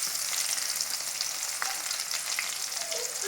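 Chopped onions and dried chillies sizzle steadily in a hot pan, a constant bright crackle with occasional stirring scrapes, close and fairly loud, with no talking.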